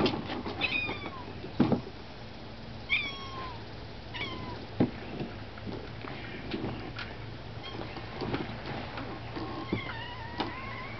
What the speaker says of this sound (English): Kitty wants to go out now